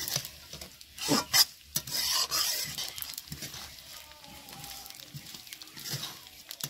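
Rice being sautéed and stirred with chopped capsicum in a pan, a close scraping and rasping of the spoon with a soft sizzle, in short uneven strokes.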